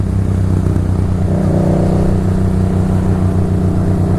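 A Suzuki GSX-R sport motorcycle engine running with a deep, steady drone and a slight rise in pitch partway through, loud and close with no talk.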